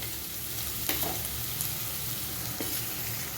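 Capsicum and green chilies frying with sautéed onions for Bombay-style masala pav, a steady low sizzle with a few faint utensil clicks, close and fairly quiet, no voices.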